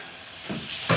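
Onions frying in a pan with salt give a brief, close, steady sizzling hiss that swells slightly toward the end.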